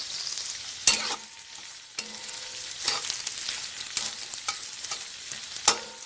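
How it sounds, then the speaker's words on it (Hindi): Onion fries in a pan with cumin seeds and green chili: a low steady sizzle punctuated by several sharp scraping stirs of a spatula, close and clear with no talking. "ग्रीन चिली ब्राउन होने के बाद हम ऑनियन डाल देंगे, और इसे ब्राउन कलर भून लेंगे"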